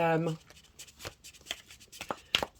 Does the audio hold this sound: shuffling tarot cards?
yes